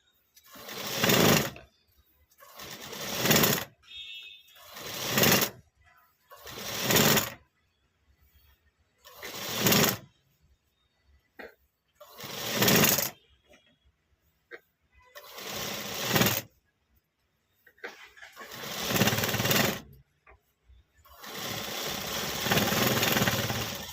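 A sewing machine stitches the shoulder of a readymade top in repeated loud, whirring runs of a few seconds each, separated by short pauses, close by.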